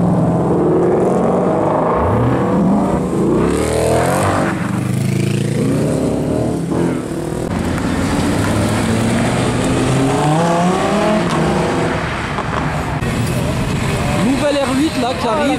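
An Audi R8 sports car pulls in at a Cars and Coffee meet in Luxembourg, its engine a loud, close, steady roar that swells and eases, with voices mixed in underneath.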